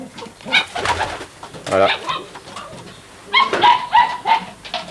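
Racing pigeons coo in a loft in bursts of soft, throaty calls up close, with a person's voice speaking briefly among them.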